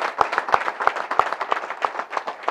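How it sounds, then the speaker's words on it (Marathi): An audience at a Marathi gathering claps in a quick, steady rhythm, with sharp, evenly spaced beats standing out over lighter scattered claps. "एकदा जरा जोरदार टाळ्या."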